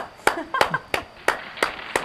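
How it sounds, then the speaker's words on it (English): An audience at a local meeting claps in a sparse, uneven way, with about six sharp distinct claps spread over two seconds and faint background noise between them. "Keep clapping."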